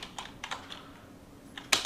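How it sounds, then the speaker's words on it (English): Several quick keystrokes on a computer keyboard while working in Houdini software, a scattered few clicks up close followed by a louder final burst of keys. "And type it out."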